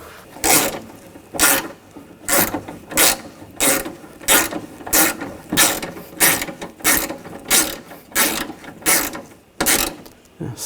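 A ratchet clicks in a steady back-and-forth rhythm while snugging down window regulator bolts on a 2000–2006 BMW X5. Around fourteen evenly spaced strokes are heard up close, with no talking.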